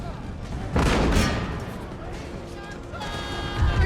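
Cannon firing canister shot in Empire: Total War land battle, a loud booming blast near the start followed by rumbling battle noise and scattered gunfire, with a voice talking over it.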